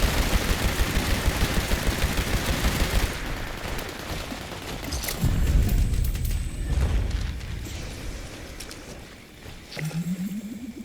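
Weapon gunfire in the video game Fallout 76 rattles in rapid sustained bursts, loud and dense, then gives way to scattered booms and quieter game effects.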